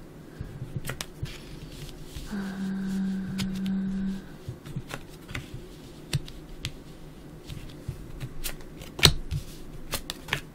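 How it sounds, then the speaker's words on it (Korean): Tarot cards are shuffled and spread close by in a quiet room, with a riffling burst of shuffling in the middle followed by scattered light clicks and slides of cards being laid out. "타로 카드 펼쳐보도록 할까요?"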